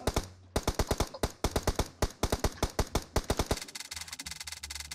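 Automatic rifle fire from an M16 or M4 in PUBG Mobile: rapid, loud bursts of closely spaced shots with short pauses, then a denser continuous burst near the end, no talking.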